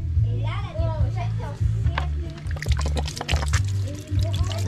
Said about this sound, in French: On va rincer un coup.